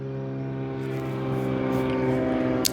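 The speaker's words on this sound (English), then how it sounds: "Little airplane flying overhead." A small propeller airplane flies overhead, its steady droning engine hum growing slightly louder over a few seconds, with faint background noise and no one speaking.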